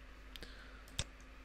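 A single sharp computer mouse click during Revit modelling, close and crisp, with a fainter click just before it against a quiet room hum.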